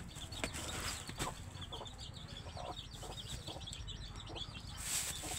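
A desi rooster pecks at chicken feed on a rural Bangladeshi farm, giving soft, repeated clucks in a quiet outdoor setting with faint background noise.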